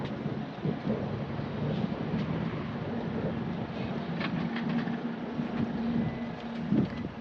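White 2022 Isuzu CAB4 pickup truck with a manual gearbox driving, a steady low engine and road rumble with wind noise, continuous and close, with no speech.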